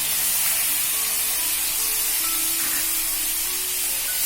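Tomatoes and turmeric going into a hot pan for puffed-rice poha, a loud continuous sizzling hiss of frying that holds steady throughout, close up and with no voices.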